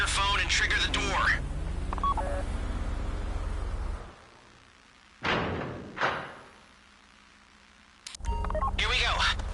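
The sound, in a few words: phone dialing tones triggering vault door, video game GTA Online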